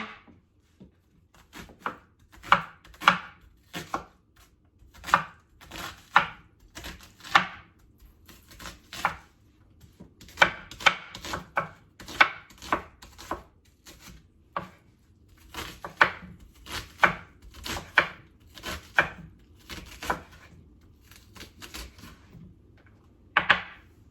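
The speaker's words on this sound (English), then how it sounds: "I'm going to chop up one whole yellow onion." A knife chopping a whole yellow onion on a cutting board in a home kitchen, crisp close taps coming in quick bursts with short pauses between runs.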